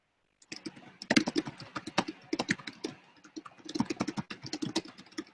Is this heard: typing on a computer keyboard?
yes